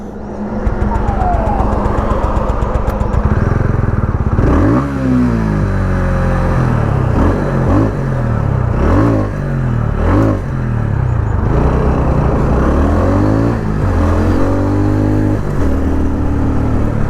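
A TVS Ronin motorcycle engine runs on and on, starting but failing to pull away. Close and loud, it idles roughly and revs in repeated bursts, with no voices over it.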